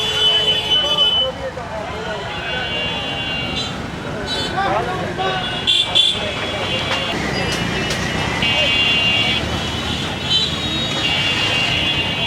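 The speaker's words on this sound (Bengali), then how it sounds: "এবার লাইনটা খুলে দেওয়া হলো, কিন্তু তারপরে দেখেন কি পরিমাণ গাড়ি কিন্তু পার হচ্ছে।" Heavy traffic streams across a railway level crossing at Santahar junction once the gate lifts, with repeated car and bus horns sounding close by over a steady engine rumble while people talk.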